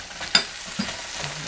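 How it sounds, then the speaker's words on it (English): Soy sauce and sugar sizzle against green beans in a hot pan, a soft steady frying hiss with a few sharp stirring clatters and crackles on top. "Let that sizzle up and coat all the beans"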